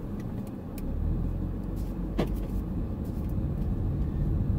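A Porsche Macan cruising on an open road, its steady engine and tyre drone filling the cabin as a continuous low rumble, with no one speaking.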